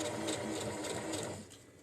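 A sewing machine runs steadily at close range, its motor whirring with a fast, even stitching rattle for most of the clip before it slows and fades near the end, with no one talking.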